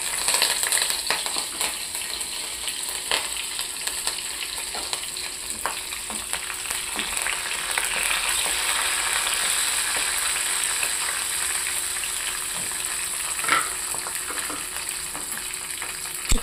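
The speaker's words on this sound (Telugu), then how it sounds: "ఇప్పుడైతే పోపులు అయితే వేద్దామండి" Whole tempering spices fry in hot oil for an egg recipe, giving a steady, moderately loud sizzle with scattered small pops and stirring clinks throughout, no talking.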